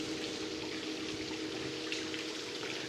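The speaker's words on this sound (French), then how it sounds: "Là, il y a une petite cascade." A small waterfall on the Nivernais canal rushes in a steady, broad wash of falling water, heard close from a boat with a low constant hum underneath and no talk.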